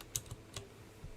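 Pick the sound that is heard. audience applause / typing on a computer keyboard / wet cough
typing on a computer keyboard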